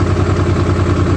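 A Honda NT700 motorcycle engine sits idling after coolant repairs to the water pump housing and crossover tube, giving a steady, loud, close low rumble with an even throb throughout.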